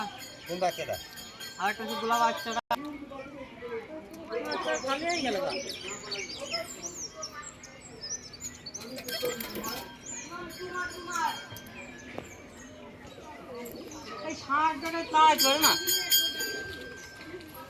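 A flock of pigeons coos and chirps nearby while birds take off, soft calls repeating throughout under frequent conversation between people.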